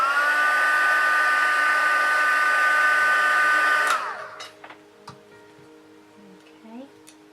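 A heat tool whines with a steady, close, loud blowing hum while heat-setting paint on a face, then shuts off and winds down, followed by light handling clicks and soft movement.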